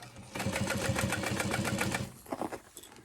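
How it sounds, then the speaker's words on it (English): A sewing machine stitches a backpack seam with a 3/8 inch seam allowance, running close and steady in a rapid mechanical chatter for about two seconds, then stopping and giving a few short bursts. "So let's go ahead and sew this up."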